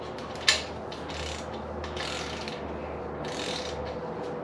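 Ratchet snugging bolts on a 4AGE engine short block, rapid pawl clicking in several bursts close by with a sharp knock at the start, over low steady background hum.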